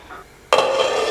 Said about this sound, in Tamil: மூடி போட்டு மூடிடலாம்.